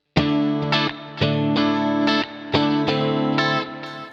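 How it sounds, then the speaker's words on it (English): Electric guitar chords ring out through a Line 6 HX Effects digital delay set to a low mix with a few repeats, strummed in a steady pop rhythm with a slight chorus shimmer and soft echo tails. "it's just a digital delay with pretty low mix and maybe 2 or 3 repeats"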